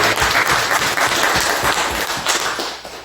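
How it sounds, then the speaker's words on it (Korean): A church congregation applauds loudly during a Sunday worship service, a dense, steady burst of many hands clapping nearby for about three seconds, thinning slightly at the end. "우리 박수를 한번 크게 하는 것입니다."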